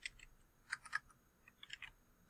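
A search typed into a library catalogue on a computer keyboard gives quiet, close key clicks in short irregular bursts with brief pauses between them.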